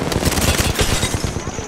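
Rapid automatic gunfire from a firefight in the video game Apex Legends, a dense run of close, loud shots rattling steadily for the whole stretch.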